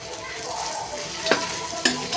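Ginger, garlic and cumin paste fries in a pan with a steady close sizzle, broken by two sharp stirring scrapes of a utensil against the metal.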